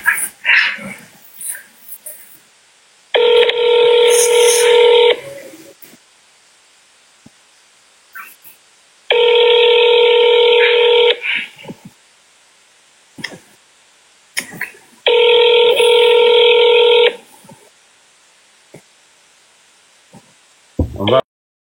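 Three long, loud, evenly spaced multi-tone bursts of about two seconds each, like telephone dialing or line tones, with short clicks and scrapes between them and no speech.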